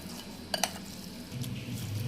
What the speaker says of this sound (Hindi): अब इन सब चीज़ों को हम इसमें अच्छी तरह कीमे में मिक्स करेंगे